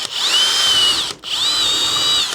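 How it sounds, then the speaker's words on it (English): Power drill boring out a PVC conduit fitting, two close, loud high-pitched whining runs separated by a brief pause, with no talk. "Let me get this drilled out."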